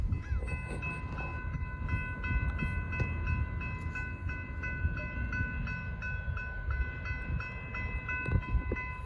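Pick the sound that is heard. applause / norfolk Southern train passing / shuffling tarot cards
norfolk Southern train passing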